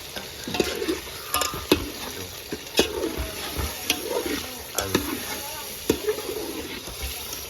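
Pomfret curry sizzling and frying in a pan while being stirred, with repeated scraping knocks of the spoon throughout over a steady close sizzle.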